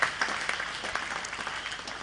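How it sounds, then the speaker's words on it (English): An audience applauding to welcome the governors' wives at a formal courtesy call, steady dense clapping from a crowd over two seconds. "Can we please give them another round of applause and welcome them?"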